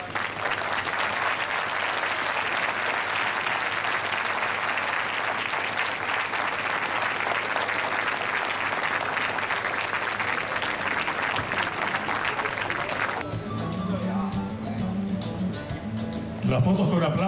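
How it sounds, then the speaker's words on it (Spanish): Long, sustained applause from an audience for a Chinese colony choir at a Chinese folk song and dance troupe performance in Chile, steady and full for about thirteen seconds before fading, with a voice speaking over the end. "Y aplaudan, aplaudan, eso es, al coro de la colonia China"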